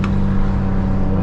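Tuned 2025 BMW M4 Competition engine heard from inside while driving, a steady deep droning hum with a strong low tone, brief and fairly loud.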